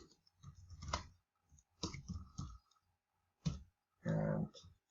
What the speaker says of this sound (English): I'm clicking on this one